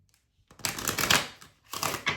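A deck of tarot cards is shuffled by hand: a quiet pause, then a dense riffling burst of crisp card rustle for about a second, a brief break, and a second shorter burst, all close up.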